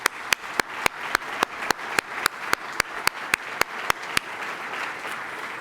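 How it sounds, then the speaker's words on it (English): Audience applause at a distinguished speaker event, with sharp, evenly spaced claps standing out over a dense wash of clapping that fades slightly toward the end. "A round of applause, please."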